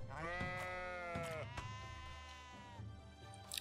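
Sheep bleat in the farming game A World of Little Legends: a long, wavering, nasal bleat up close, then a few shorter bleats overlapping toward the end, with no talking.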